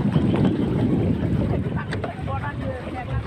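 A small boat moves across Nakki Lake at Mount Abu, with steady wind rumble, water wash and faint distant voices nearby.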